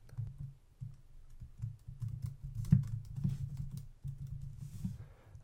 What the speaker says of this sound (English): we can just click anywhere and we can start typing